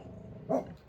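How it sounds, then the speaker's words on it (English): A French bulldog lets out a single short, gruff bark outdoors, heard at a moderate distance over faint background noise. "Gladys is a French bulldog."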